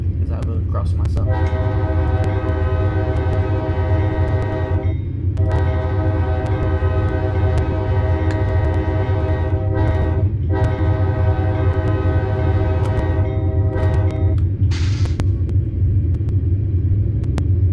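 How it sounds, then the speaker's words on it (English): A southbound Amtrak train blows its horn at a nearby street crossing, long loud chords repeated in a crossing pattern over a heavy rolling rumble of the passing train. "Southbound coming, I can hear them blowing the crossing just down the street."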